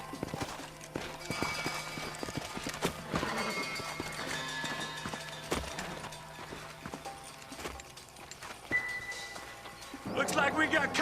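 Horses' hooves clip-clop across the ground in the video game Red Dead Redemption, an uneven run of thuds mixed with game sounds and music, while voices talk over them.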